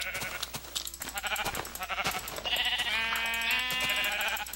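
Repeated Minecraft sheep bleats, choppy at first and then a long, drawn-out wavering cry near the end, loud and close with nobody talking.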